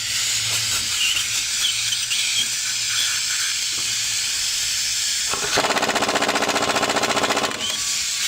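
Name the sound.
air impact wrench on Chevy Silverado front brakes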